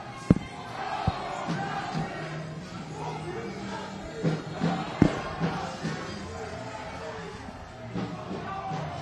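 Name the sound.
large crowd of protesters in the street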